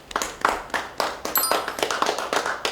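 A small group claps nearby, with uneven, distinct hand claps that quicken into a scattered round of applause.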